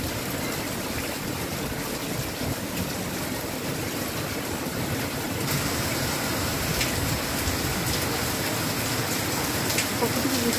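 Heavy monsoon downpour falling during a lightning storm on a hot day, a steady dense roar of rain on surfaces filling the whole stretch at constant loudness, with no voices.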